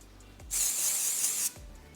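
One steady aerosol spray of makeup setting spray hisses for about a second, close and bright, with quiet before and after.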